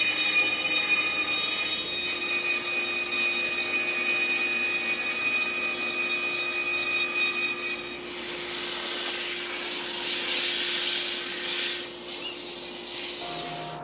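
Cordless drill spinning a wooden cylinder against a table saw blade, giving a steady loud whine with a sustained tone, then shifting midway into a rougher, noisier grinding hiss.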